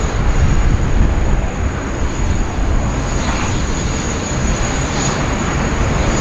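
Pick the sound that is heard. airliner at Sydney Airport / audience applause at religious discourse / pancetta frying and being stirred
airliner at Sydney Airport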